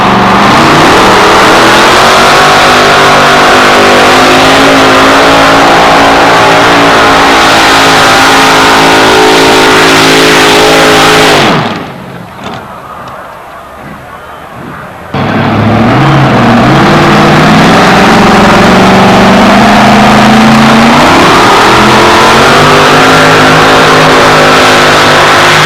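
Two-wheel drive pickup trucks, Chevrolet S10s among them, roar at full throttle in a 1991 Tomah, Wisconsin racing event, very loud and close, with the engine noise dropping away briefly before surging back to sustained high revving.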